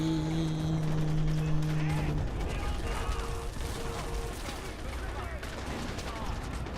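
Gunfire in the video game Far Cry 4 comes as scattered bursts and pops mixed with mechanical game sounds, set under someone talking in French.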